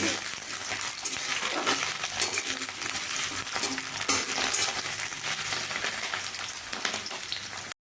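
Potatoes frying in hot oil tempered with green chillies and bay leaf, a steady loud sizzle that fills the whole span with constant crackle and occasional stirring, no talk over it.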